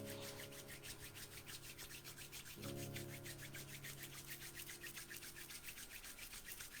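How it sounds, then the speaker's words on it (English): Two hands rub together briskly to warm up during a face yoga session, producing a steady, close, dry swishing friction in a fast even rhythm that continues throughout, with no voices. "Now, rub your hands together till they're nice and warm."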